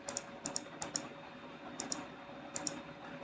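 Fingers type on a computer keyboard in short double-click bursts, quiet and close, with brief pauses between the pairs of keystrokes.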